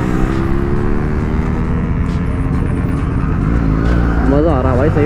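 A new-model Kawasaki Z900 fitted with an SC Project exhaust drones loudly nearby, then revs with its pitch climbing and wavering near the end.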